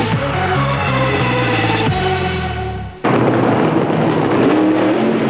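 Top Fuel and Pro Stock drag racing cars roar down the strip at Santa Pod during the FIA European Finals, a loud sustained engine blast that cuts off and gives way to another harsh, rasping engine roar.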